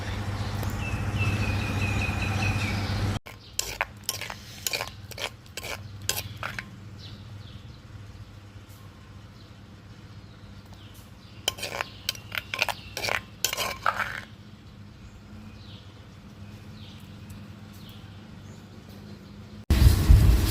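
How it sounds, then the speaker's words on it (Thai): Shrimp paste chili dip (nam prik kapi) being spooned into a serving bowl, with a run of sharp clinks and scrapes of a spoon against ceramic that come in bursts, pause, then resume, all over a low steady room hum. "เดี๋ยวเรามาตักใส่ถ้วยพร้อมเสิร์ฟได้เลยจ้ะเพื่อนๆ"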